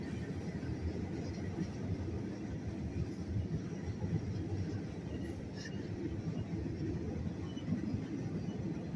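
A steady low rumble of a train rolling past at a distance, continuous and even throughout, with no voices.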